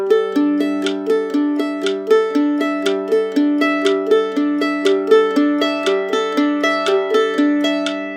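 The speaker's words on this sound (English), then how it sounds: "We're just skipping every other string." Rapid plucked mandolin notes in a steady, even rhythm, bright tremolo-like picking alternating between strings, played alone with no voices.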